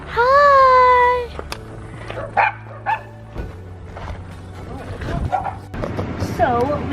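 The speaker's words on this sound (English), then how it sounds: "Here's a dog." A dog after a hike gives a loud, drawn-out whining yelp, then a few short yips and barks, with people talking over and after it.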